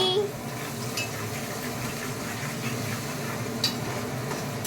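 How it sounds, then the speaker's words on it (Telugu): Onions and green chillies frying in a pan, a steady soft sizzle with occasional light scrapes and clinks of a spoon stirring them. "ఆనియన్స్, గ్రీన్ చిల్లీ వేసుకున్న తర్వాత తిప్పాలి."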